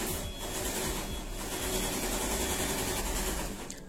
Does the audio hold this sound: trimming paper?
no